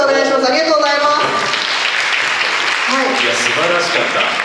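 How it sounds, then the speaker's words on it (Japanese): Audience applause at a Japanese youth chamber policy seminar, a dense continuous patter of clapping filling the room for several seconds while voices speak over it at the start and end. "皆さんもう一度大きな拍手をお願いします。"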